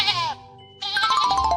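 A sheep bleats twice, a wavering nasal cry, a brief pause, then a longer quavering bleat, close and clear with nothing else around it.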